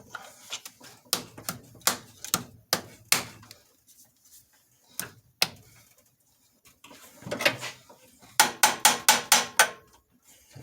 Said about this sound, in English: Time to do old fun prying stuff up again.